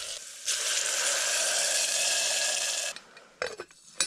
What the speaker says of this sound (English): Put some olive oil in the bottom of the pan.